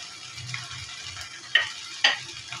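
Prawn fried rice with spring onions being stirred in a pan, a soft steady sizzle with two sharp scraping clinks of the spatula against the pan, no talk.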